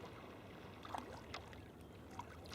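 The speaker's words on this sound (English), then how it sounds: "Listen to the sea." Sea water off the Great Orme in North Wales sloshes and splashes around a kayak, faint and close, with a few small splashes over a soft, steady wash.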